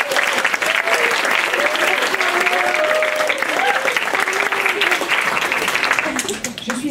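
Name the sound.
audience applauding the summer assistants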